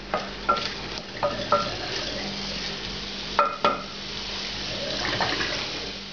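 Shrimp and chopped onion fry in a pan, with a steady low sizzle throughout and a few clinks and scrapes from stirring.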